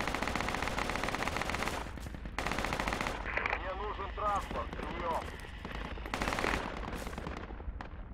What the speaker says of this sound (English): That's them firing.